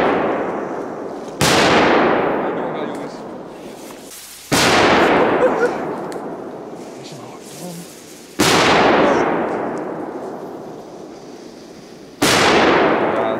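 Polish-market firecrackers explode outdoors: four loud, sharp blasts a few seconds apart, each trailing off in a long, rolling echo, with faint voices in between.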